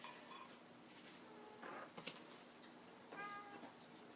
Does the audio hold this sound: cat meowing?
yes